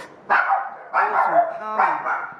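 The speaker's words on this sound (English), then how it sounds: "I have a dog that wants to bark" A dog barking indoors close by, three loud, evenly spaced barks with a slightly whining tail, alone without talk.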